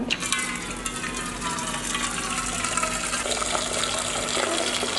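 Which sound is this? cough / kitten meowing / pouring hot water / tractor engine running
pouring hot water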